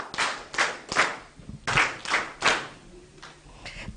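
A few people clap for a speaker during an online panel discussion, sparse and uneven claps in separate bursts, moderately close and fading toward the end with no talk over them.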